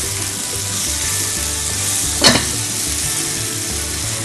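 Onions fry in a very hot pan while being cooked down to caramelize, a loud, continuous sizzle with one sharp stirring clank midway.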